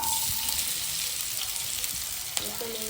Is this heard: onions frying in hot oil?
yes